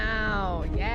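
Cat meowing in a single drawn-out, wavering cry that rises and bends, close and fairly loud, with a second shorter inflection near the end; no talk over it.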